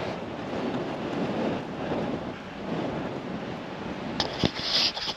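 Wind gusts buffet the microphone on a Spanish mountain during a run, making a low, rumbling roar that swells and fades, with a few sharp rustles near the end.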